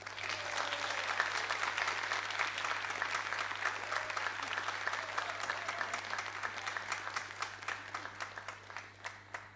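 Steady applause from an audience at a Neapolitan talent show, many hands clapping in a continuous wash with some sharper individual claps standing out near the end, over a low constant hum.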